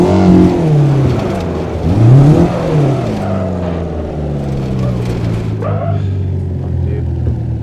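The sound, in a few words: car engine revving in a driving video game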